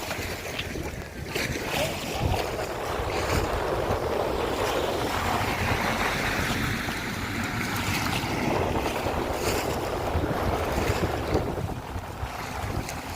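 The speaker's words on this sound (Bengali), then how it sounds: "পানি এমন ভাবে বাড়ি দিচ্ছে," Strong floodwater current in Sylhet surges and crashes against houses and spills onto the road, a continuous loud roar of rushing, churning water with wind buffeting the microphone throughout.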